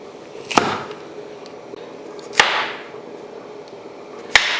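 A knife chops through peeled cassava root, three sharp, close cutting knocks spaced roughly two seconds apart over a low, quiet background.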